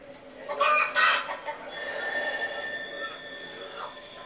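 Chicken clucking in a scene from the horror film The Texas Chainsaw Massacre (2003): two loud, close clucks early on, then softer fowl sounds and a faint steady background tone.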